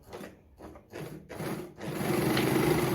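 A Jones model 461 sewing machine runs to wind a bobbin, starting with a few short stuttering whirs and then building into a steady close mechanical hum.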